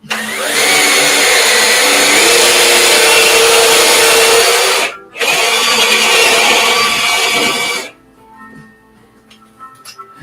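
A power drill bores a hole in a homemade lathe tool rest, a loud, steady whine that breaks off for a moment, runs again for a few seconds, then stops, leaving faint clicks and handling sounds.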